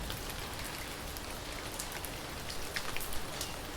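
Steady rain falls in a soft, even hiss with scattered brighter drops pattering on surfaces, distant and unbroken, with no voices.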